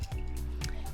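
Pink grapefruit squeezed by hand over a strainer, with wet squishing and juice trickling in short bursts, close and fairly loud throughout.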